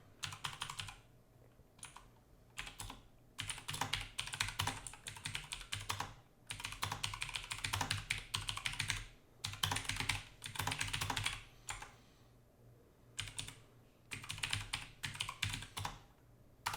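Someone types on a computer keyboard in bursts of rapid, close key clatter separated by short pauses, with faint background hum and no speech.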